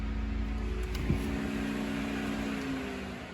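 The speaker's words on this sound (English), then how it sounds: "the fan turns on in the front, if you can hear that." A 1987 Pontiac Fiero's front electric cooling fan runs as a steady whirring hum over the idling car, continuous and fairly close, with a brief click near the start.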